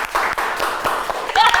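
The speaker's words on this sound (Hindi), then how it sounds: "जोरदार तालियों के साथ स्वागत करेंगे साक्षी और राघव का" Studio audience applause welcomes guests onto a Hindi talk-show set, a dense, steady wash of clapping that holds for the whole moment while voices carry on over it.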